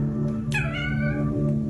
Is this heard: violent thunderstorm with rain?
no